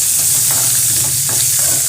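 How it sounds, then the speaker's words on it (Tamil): Sliced onion and garlic sizzle in a hot pan for horse gram chutney, a dense, close, continuous frying crackle with soft scraping from stirring and no talk. "ஆட் பண்ணிவிட்டு இதை நல்லா வதக்கி விடுங்க."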